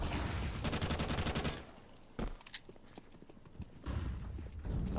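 Rapid gunfire in a Counter-Strike match, a loud sustained spray of shots at the start, then sparser single cracks and footsteps before another burst near the end.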